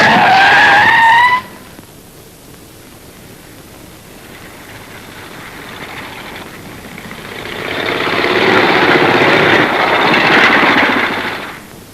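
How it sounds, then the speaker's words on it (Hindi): A truck skids hard to a stop with loud tyre screech for the first second and a half, followed by low rumbling engine noise and a rising broad roar near the end. "ट्रक रोक दो।"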